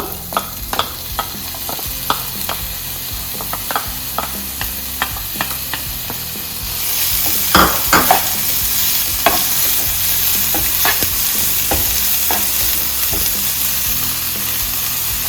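Chopped vegetables, carrot among them, tumble into hot ghee in a pan with a quick burst of sizzling, then scattered scrapes and clicks of stirring ring out over a steady, bright frying hiss.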